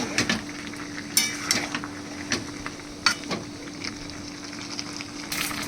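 Prawns frying in a pan of hot oil for a ridge gourd and potato curry, with a soft steady sizzle and a few sharp clinks and scrapes of a utensil against the pan.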